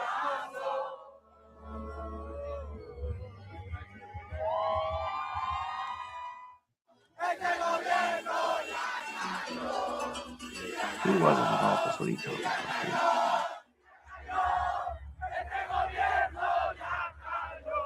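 A large crowd cheering and shouting in loud, roaring swells, with someone talking over and between the bursts.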